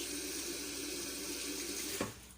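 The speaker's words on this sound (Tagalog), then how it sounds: "Natural, hugasan po natin ang ating fish." Tap water runs steadily into a sink as fish is washed under it, a close continuous splashing that cuts off abruptly near the end.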